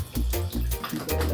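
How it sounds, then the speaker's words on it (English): A pump drains water from a homemade pool built inside a dorm room and sends it out a window, giving a loud, steady rush of water over a low motor hum that surges in repeated pulses. "I have this pump right here, and I'm gonna pump all the water out that window"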